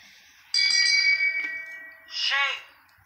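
A hand bell rings with a sharp, sustained ringing strike followed by a second brighter ring that decays, loud and close with no speech over it.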